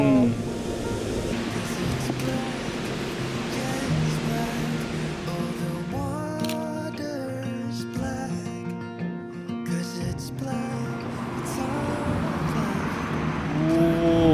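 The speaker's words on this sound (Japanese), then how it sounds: "いいよね、この滝の音。" A waterfall in a rocky gorge at Naruko Gorge in autumn gives a steady, even rushing roar that runs throughout, with people talking over it.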